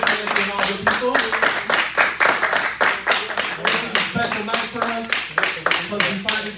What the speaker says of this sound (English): A big round of applause for Candy and all the people.